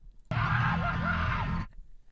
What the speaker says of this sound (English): can we hear the scream again?